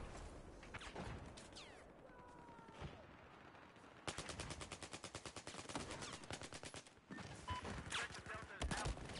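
Gunfire in a Call of Duty or Battlefield-style shooter game, scattered shots at first, then a long rapid burst of automatic fire with sharp evenly spaced cracks, followed by more shots and a brief pause.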